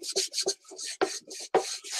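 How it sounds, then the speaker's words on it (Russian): Sandpaper is rubbed quickly back and forth across a decoupage box, making close, rhythmic rasping scrapes in short bursts. "Для этого мы ее наждачкой и стираем. Ошкуриваем все остальное."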